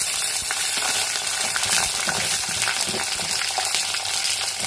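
Shallots, garlic and chillies fry in hot oil in a clay pot for fish curry, giving a loud, continuous close-up sizzle with small crackles and stirring clicks throughout.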